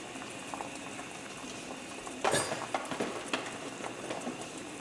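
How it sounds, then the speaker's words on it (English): A pot of pasta boils on a home stove, giving a steady bubbling hiss with denser popping bursts near the middle, close and fairly quiet, with no talking. "Now that's been boiling for 4 minutes."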